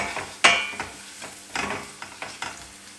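Green peas with a quarter teaspoon of turmeric powder being stirred in a pan for a Kerala-style mezhukkupuratti side dish, giving a series of scraping spatula strokes over a light sizzle, with one sharper clink near the start.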